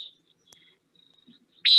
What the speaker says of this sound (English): this is a common nighthawk, and you guys probably know this bird very well